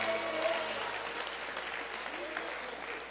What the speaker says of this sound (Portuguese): Aplaudam Israel, por favor.